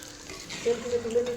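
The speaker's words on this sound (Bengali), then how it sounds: "গরম তেলে একের পরে এগুলো ভেজে নিচ্ছি" Kakra pitha frying in hot sunflower oil, a soft bubbling sizzle with light utensil sounds, fairly quiet and continuous, with a faint tone rising in the second half.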